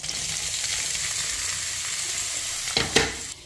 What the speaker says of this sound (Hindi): अब घी में बस सीधे आपको ये प्याज डालने हैं।